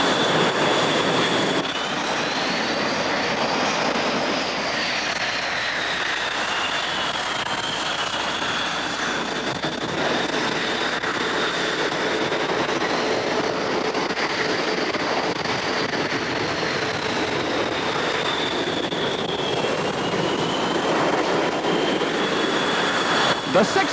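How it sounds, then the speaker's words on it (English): Six Blue Angels demonstration jets taxi toward the end of the runway ahead of takeoff, their engines producing a steady, loud roar with a shifting high whine, while a voice talks over it. "The 6 demonstration aircraft are approaching the end of the runway to begin their takeoff sequence."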